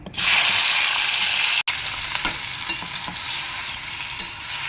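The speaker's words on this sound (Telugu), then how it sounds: "దీంట్లో ఇప్పుడు మనం తరుక్కున్న టమాటాలు వేసేసుకుందాం" Chopped raw tomatoes tipped into hot oil with curry leaves in a pan: a loud burst of sizzling frying that continues steadily, with occasional stirring scrapes and clinks, close and without talk.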